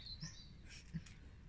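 Birds feed outdoors near a house and give a few faint, scattered high chirps and tweets at a distance, over a low background murmur with no talk.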